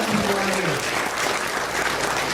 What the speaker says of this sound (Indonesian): Tepuk tangan tuh ya calon pengusaha ini ya.